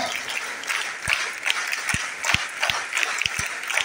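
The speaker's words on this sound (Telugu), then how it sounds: "లేచి నిలబడి గట్టిగా చప్పట్లతో ఇన్వైట్ చేద్దాం" A standing audience in Tirupati gives a guest a loud, sustained round of applause, dense clapping from many hands filling the room at close range, with scattered low thumps underneath.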